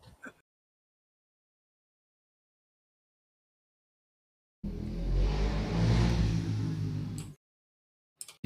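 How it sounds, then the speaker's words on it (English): A fast motorcycle-like engine roars past during an Among Us game, rising out of silence as a loud, close, revving rumble for about three seconds before cutting off abruptly, with no talk. "Like a motorcycle, running very fast near me."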